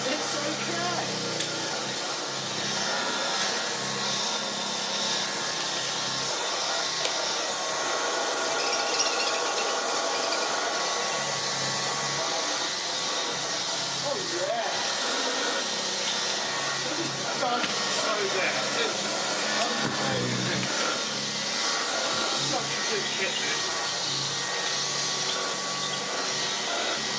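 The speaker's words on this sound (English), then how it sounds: "That there is as good as a lovely Hoover Junior 375." A restored Hoover Junior 375 upright vacuum cleaner with new bearings and a modified bag runs continuously, a steady whining motor hiss with faint mechanical rattles throughout.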